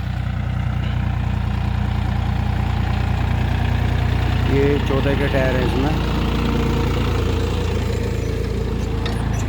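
A John Deere 5305 tractor engine runs at a steady, loud, close drone with the tyres slipping, while someone talks over it.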